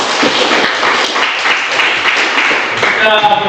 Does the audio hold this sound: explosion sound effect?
no